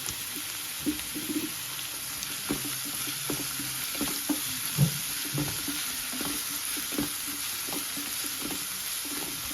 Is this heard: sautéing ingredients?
yes